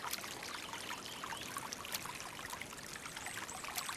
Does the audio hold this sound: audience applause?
no